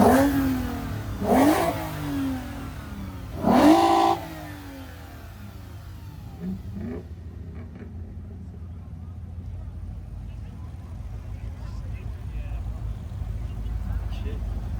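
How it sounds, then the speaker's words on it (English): At a small car meet, a car engine with an exhaust leak revs in two sharp bursts early on, then settles into a rough, lower idle rumble that grows slightly toward the end. "Sounds like it's got an exhaust leak."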